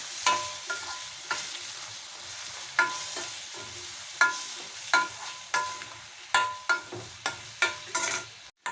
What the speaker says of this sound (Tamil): சாஃப்ட் ஆகி வரும் தக்காளி கொஞ்சமாக உப்பு போட்டு வதக்கிக்கோங்க